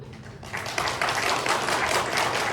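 A lecture audience at a Catholic church centre breaks into applause, a dense burst of many hands clapping that swells quickly and holds steady, fairly close.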